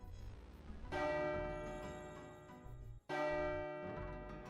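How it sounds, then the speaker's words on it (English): A school lunch bell in the game soundless rings twice, each a loud metallic strike with rich ringing overtones that slowly decay, the second following about two seconds after the first. "The lunch start bell rang."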